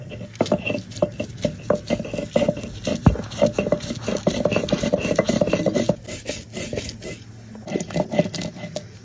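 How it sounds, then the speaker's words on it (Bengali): Cashew nuts and poppy seeds ground with a little water into a paste, a close, rhythmic scraping and rubbing that repeats in quick uneven strokes, pausing briefly near the middle. "এটা পুরোটাই বেটে নেব। অল্প একটু জল দিয়ে ভালো করে মিহি করে বেটে নিতে হবে।"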